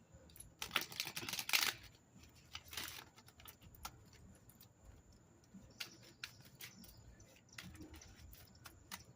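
A deck of playing cards is shuffled close by and quietly: two quick riffling bursts, then softer scattered flicks and taps of the cards.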